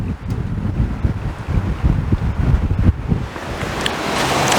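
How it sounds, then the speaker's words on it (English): Strong, gusty wind blowing outdoors on a building site during roof work, roaring loudly against the microphone with rising and falling buffeting and no talking. "There's a crazy wind blowing out here."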